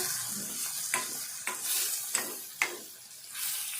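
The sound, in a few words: fenugreek leaves frying in a pan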